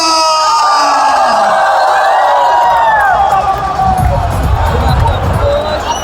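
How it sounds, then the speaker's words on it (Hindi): A cricket stadium crowd at a Pakistan match claps and cheers as a loud, sustained roar, with yells and whoops over a general babble of voices that swells toward the end. "तो पूरी टीम के लिए क्लैपिंग होनी चाहिए, बल्कि तालियों के साथ शोर होना चाहिए।"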